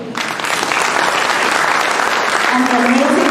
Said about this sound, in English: Can we have one round of applause for the MCC?